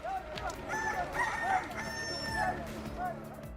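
A rooster crows close by, a loud repeated cock-a-doodle-doo with wavering calls layered over one another, joined by other farmyard fowl clucking in the background.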